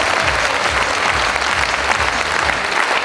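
An audience at a sales meeting applauds steadily, a dense, loud wash of many hands clapping for the whole stretch with no pauses or voices standing out.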